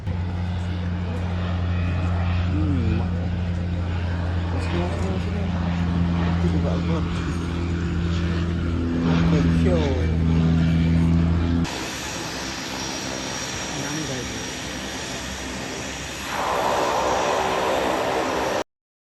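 A seaplane flies over Umiam Lake in India, its propeller engine a loud, steady droning hum that holds through the clip, with voice-like sounds mixed in over the first half.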